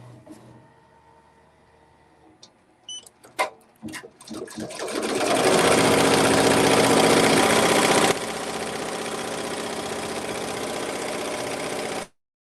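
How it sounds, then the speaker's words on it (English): An embroidery machine starts up after a few clicks and beeps, then runs a steady, loud rapid whir of satin stitching lettering on a sweatshirt for several seconds before dropping in pitch and stopping abruptly. "push the green button on my machine and it's going to do the satin stitch"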